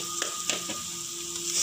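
Tapioca cutlet masala mix with turmeric sautéing in a pan: a faint, soft, continuous sizzle with a few light scraping clicks from stirring, quiet and close, with no talking.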